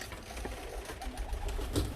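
English Trumpeter and homer pigeons coo softly in a loft, low murmuring calls with a few brief louder flutters and knocks, close and steady throughout.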